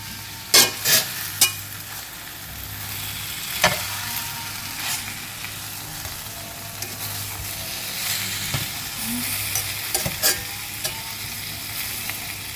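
Char siu pork sears in a pan as its marinade cooks down, giving a steady sizzle and hiss. Loud stirring scrapes and clanks break in at intervals, and nobody speaks.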